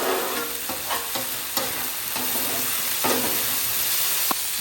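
Garlic and butter sizzle steadily on a Blackstone griddle turned down to low, a continuous close frying hiss with a few soft scrapes and stirs scattered throughout.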